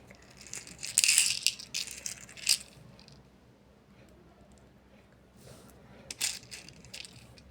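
Small pearl beads clink and rattle against each other while being threaded onto a needle, in bursts of bright jangling that fade and return, close up with no voice.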